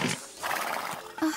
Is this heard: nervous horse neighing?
yes